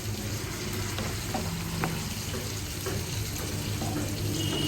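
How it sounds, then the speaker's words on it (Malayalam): Water poured into sizzling small onions, chili and Kashmiri chili powder frying in a pan for karimeen roast sets off a dense, steady hiss and bubbling that runs unbroken and fairly loud throughout. "നമുക്ക് അതിനകത്തോട്ട് കുറച്ച് വെള്ളം ഒഴിച്ച് കൊടുക്കുക"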